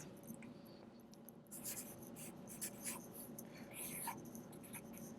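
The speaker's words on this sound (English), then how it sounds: "I'm going to write down each fraction." Pencil or pen writing fractions on paper by hand, faint scratchy strokes in short bursts against a quiet background, with no talking.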